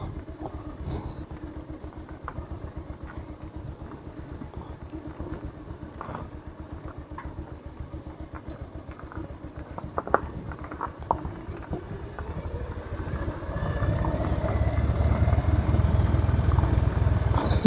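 A heavy motorcycle rides over a rough mining road. The engine patters steadily throughout, with loose gravel clattering under the tyres, and it grows louder and rougher in the last few seconds.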